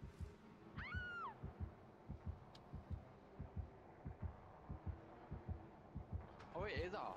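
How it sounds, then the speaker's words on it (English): A heartbeat warning in the horror video game Dead by Daylight thumps in a steady, even rhythm throughout, with a voice speaking briefly near the start and again near the end. "it is our heartbeat"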